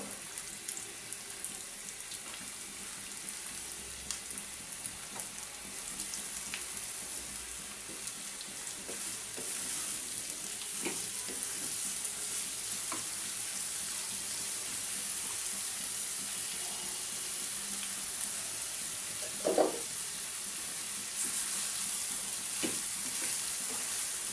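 Red potatoes fry in a pan with a soft, steady sizzle and crackle, with a few faint clinks and one brief louder knock partway through.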